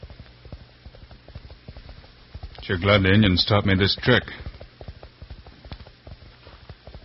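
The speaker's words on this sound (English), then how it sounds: "With my ear close to the ground, I can hear his horse running." Horse hooves clop in a rapid, steady patter as a radio drama sound effect, running continuously from start to end, with someone speaking over the middle stretch.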